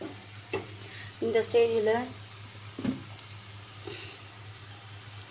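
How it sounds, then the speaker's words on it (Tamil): Onions sautéing in a pan for aloo paratha filling, a soft continuous sizzle with a few stirring scrapes and clinks, close by, while someone speaks briefly over it. "பச்சை வாசனை போகிற அளவுக்கு நல்லா வதக்கிக்கணும்"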